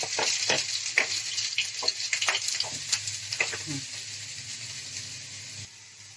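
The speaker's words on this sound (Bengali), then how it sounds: "আমার তেল গরম হয়ে গেছে এবার আমি এই কিমাটা দিয়ে দিচ্ছি" Minced meat sizzles and crackles in hot oil in a pan, a loud steady frying hiss with stirring clicks and scrapes, close up and without talk.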